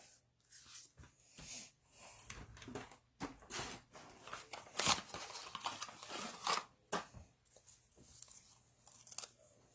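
Scissors snipping through a ribbon bow while making a papercraft cottage wreath, a series of soft, close crunching cuts and rustles at an uneven pace, fairly quiet with no talking.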